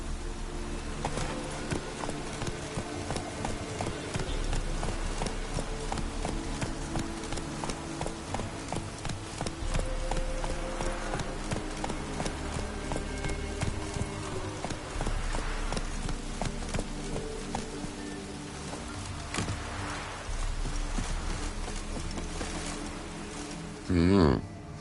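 Roach, the horse in The Witcher video game, gallops with a steady rapid clip-clop of hooves that runs throughout alongside game music and ambience, with a short loud burst near the end.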